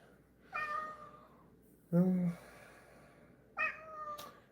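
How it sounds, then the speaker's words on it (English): Three distinct meows from a house cat, each a drawn-out, tonal cry, separated by pauses, close to the microphone and fairly clear against a quiet room. "Stop meowing at me, kitty."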